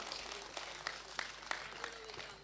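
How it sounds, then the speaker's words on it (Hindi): Applause from the audience at a large Hindi poetry gathering (kavi sammelan) for a poet, thin and quiet with a few distinct claps standing out over a low murmuring hall background. "एक बार जोरदार तालियां भाई बलवंत बल्लू के लिए बजा दी जाए"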